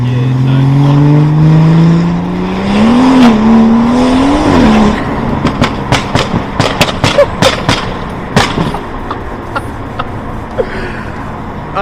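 A loud BMW M140i engine roars and revs between buildings on either side, its pitch rising and falling, then sharp exhaust pops and crackles fire off in a rapid irregular burst.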